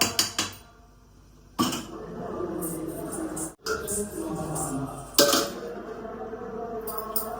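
A lid goes onto a pot of crab pepper rasam with a few sharp metallic clanks and clinks, close and fairly loud, separated by quieter stretches of kitchen background.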